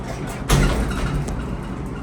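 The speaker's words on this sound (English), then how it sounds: "Oh my gosh, that door literally slammed." The door of a Kone hydraulic elevator in a Houston shopping center slams shut with a single loud, close thud, followed by a lingering low rumble of the car and hall.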